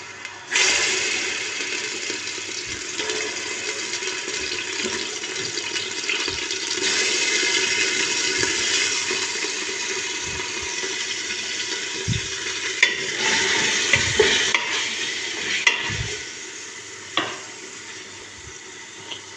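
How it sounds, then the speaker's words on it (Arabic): Chicken frying in oil in a pot, a loud, steady, close-up sizzle with bursts of spattering and occasional stirring knocks and scrapes, with no talking. "يتقلاو حوالي 5 دقائق"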